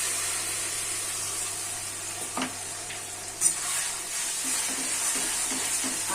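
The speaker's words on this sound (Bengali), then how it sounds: "এখন মিক্সির মধ্যে যে আমি আদা আর পেঁয়াজ বাটা রেখেছিলাম সেটা দিয়ে দিচ্ছি" Ginger-onion paste hits a pan of onions fried until red-brown for a Bengali katla fish curry, raising a steady sizzle and hiss with a few brief clatters from stirring.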